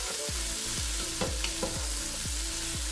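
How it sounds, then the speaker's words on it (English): Rosemary and thyme sauté for a beef stew, giving a steady sizzle with repeated stirring scrapes at a regular rhythm, close and moderately quiet, with no talk. "Just saute out a little bit so that we can get the flavor."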